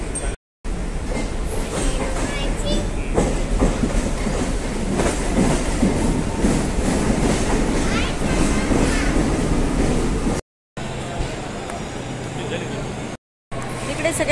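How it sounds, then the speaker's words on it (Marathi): A Mumbai local train at Chhatrapati Shivaji Maharaj Terminus, a loud close rumble with rhythmic clickety-clack of wheels and some squeal, crowd chatter underneath, broken by brief cuts near the end. "मुंबईची जीवनवाहिनी लोकल ट्रेन।"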